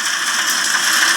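Rain sound effect from the HTC Sense weather animation on an HTC One M9 phone, a steady hissing patter of rainfall, brief and fairly loud, with no voices.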